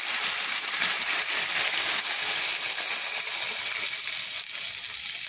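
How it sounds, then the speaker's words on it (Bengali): Water for the gravy gushes steadily into a pan of cooked chicken curry, a loud, continuous close splashing rush that fills the whole stretch with no voices. "এবার আমি একটু ঝোলের পানি দিয়ে দেবো।"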